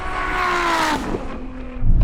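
A Ferrari SF90 and a 1000-horsepower Nissan GT-R accelerate hard in a drag race, a loud engine note rising in pitch as it pulls away, then a brief dip and a deep rumbling surge at the end.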